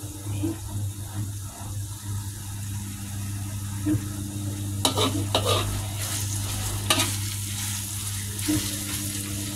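Dried scallops and garlic fry gently over low heat in plenty of oil, a steady close sizzle with a low hum beneath and brief scraping stirs now and then, no talking.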